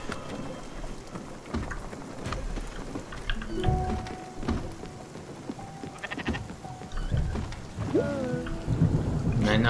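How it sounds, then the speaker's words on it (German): Thunderstorm in the Spiritfarer video game, with rain hissing steadily and thunder rumbling through, mixed with bleating animal calls and game tones over about ten seconds. "Arthur wird jetzt keine Blitze fangen"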